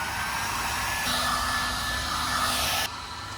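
A portable hair dryer blasts at full power as a steady, loud, broad airy roar with a faint whine, stepping up slightly partway through and dropping to a lower setting near the end.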